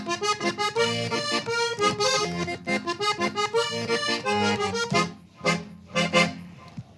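An accordion, played with keys and bellows, sounds rich reedy chords and melody in a lively rhythmic pattern, close and alone, with a short pause before the last phrases.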